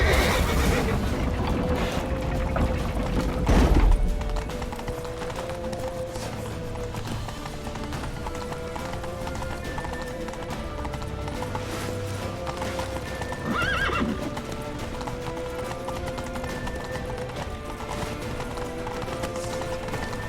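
Horses gallop with rapid clip-clop hooves while neighs and whinnies ring out, all over a steady, busy background rumble, in the video game The Witcher 3: Wild Hunt.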